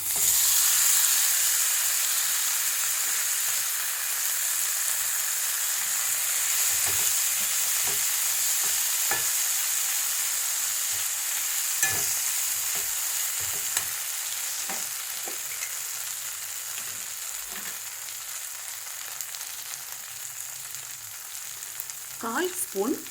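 Corn sizzles steadily in a hot pan with curry leaves, ginger and chopped green chili, a continuous frying hiss broken by intermittent scrapes and clacks of a stirring spoon.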